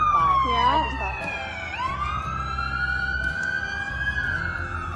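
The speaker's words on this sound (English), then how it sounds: "there's a fire truck that went by" A fire truck siren wails as it passes, rising and falling tones sweeping loudly then settling into a long steady whine, over a low vehicle rumble.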